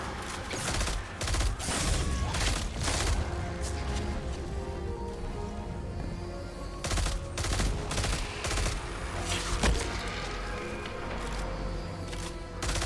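Sustained gunfire in the video game Destiny 2, dense rapid bursts of automatic shots with sharp louder cracks scattered throughout, continuous and close across the whole stretch.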